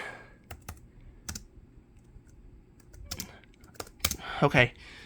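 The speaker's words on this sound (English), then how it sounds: "I'm typing with one hand, by the way." One-handed typing on a computer keyboard sets off sparse, uneven clusters of light key clicks, fairly close and quiet, with a short burst of faster taps near the end.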